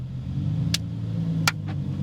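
A Lamborghini STO sports car engine drones steadily with a low, constant rumble at the Nürburgring racetrack, broken by a few brief sharp clicks, and no speech.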